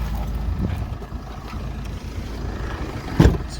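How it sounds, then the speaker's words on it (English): A 2003 Jeep Cherokee 2.8 CRD Limited diesel with automatic gearbox idles steadily, a low continuous rumble heard from nearby, with a brief knock or bump near the end. "I'll leave it running so you can hear the engine."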